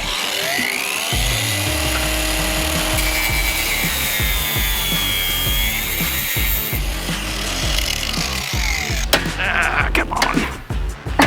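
A hand saw rasps through wood during DIY caravan repair, its strokes steady and close for most of the stretch, then breaking into sharper, louder knocks and scrapes toward the end.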